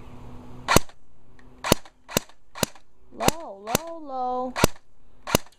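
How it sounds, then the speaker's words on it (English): An airsoft gun fires at skeet targets outdoors in sharp, loud individual cracks spaced about half a second to a second apart, with a person's brief voice heard between shots. "Shooting this dove. Safety off. Firing."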